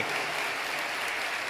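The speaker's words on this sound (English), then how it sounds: "I want you all to give yourself a massive round of applause for all the great work you've done." A large audience at a political conference applauds in a dense, even wash of clapping, loud and sustained throughout the short moment.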